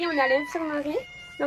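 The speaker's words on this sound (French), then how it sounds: "c'est un super minou qui a été trouvé dans la rue" A stray cat in a shelter infirmary meows with tonal, drawn-out calls, two long ones and the start of a third, close to the microphone while someone speaks French over it.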